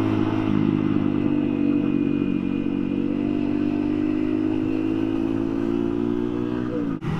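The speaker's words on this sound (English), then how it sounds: "just doing a bit of engine braking" A motorcycle engine braking on a mountain road holds a steady droning hum for several seconds, loud and close, with slight clatter, ending in a brief bump.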